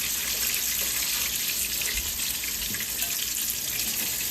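Food double frying in hot oil at a home stove, a steady bright sizzle and crackle running evenly and close, with no voices over it.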